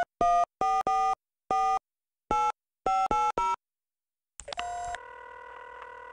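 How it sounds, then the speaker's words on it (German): A telephone in the X-Files video game is dialed with a quick series of DTMF keypad tones in uneven bursts, then a steady ringing tone sounds alone. "Es gibt ein Freizeichen wenigstens."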